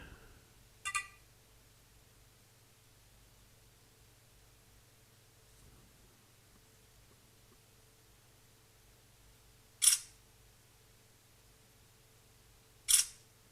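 A Blackview A8 phone camera takes a flash photo in near darkness, giving three short sharp shutter clicks spread apart over a quiet, faintly humming room, with no talk.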